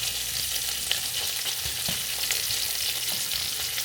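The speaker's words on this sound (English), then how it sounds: "So we got to get our onion cooked up now." Onion and bacon fry in a pan with a dense, continuous sizzle and crackle, broken by a few soft stirring scrapes, heard close with no voices.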